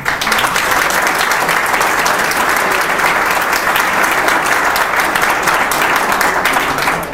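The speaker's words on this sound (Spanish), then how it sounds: "yo sí les pedí a ustedes un fuerte aplauso para los dos, por favor." At a university event, an audience gives steady, dense applause for two speakers, loud and sustained without a break.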